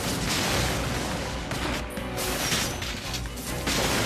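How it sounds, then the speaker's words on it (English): Rockets fired in inFAMOUS 2 produce a dense, loud run of overlapping blasts and crashing impacts, a continuous chaotic barrage with no clear gaps between hits. "And let's shoot rockets."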